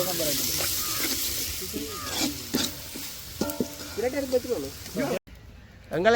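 Onions frying with salt in a pan, a steady sizzle beneath people talking over it most of the way, with a brief drop-out near the end before the sizzle returns.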